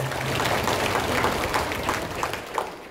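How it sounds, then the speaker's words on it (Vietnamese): Applause at a Catholic Mass closing a Marian month procession and flower offering, a dense wash of many hands clapping at steady volume, full and sustained, thinning toward the end. "Chúng ta hãy cảm ơn những thành phần đó một tràng pháo tay của chúng ta hôm nay."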